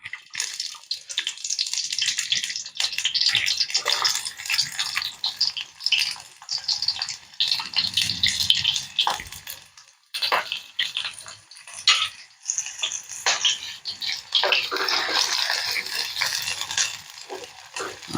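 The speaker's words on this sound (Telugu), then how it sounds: "ఇప్పుడు ఆయిల్ కాగాక ఆనియన్స్ వేసుకుందాం" Onions frying in a bowl of hot oil for a simple bachelor-style chicken curry, a steady hissing sizzle with occasional stirring scrapes and crackles, close and fairly loud, with no talking.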